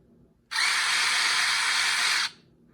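A Dewalt Atomic impact driver runs free in a single steady burst of about two seconds, a smooth high-pitched whir that starts and stops cleanly, close and loud against a quiet room.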